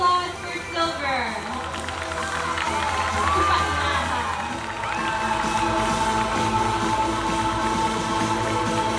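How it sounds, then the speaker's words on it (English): Spectators at a Teqball Tour finals event in Koh Samui cheer and whoop for the silver medal winners, a loud sustained crowd roar with shouts rising over it and an announcer speaking over the noise. "Please join me in giving them a big round of applause for silver."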